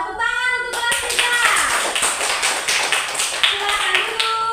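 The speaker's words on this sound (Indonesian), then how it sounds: "Tepuk tangan untuk kelas kita." A primary school class clapping hands together in a rhythmic patterned series of sharp, close claps, following a brief sung phrase from the children.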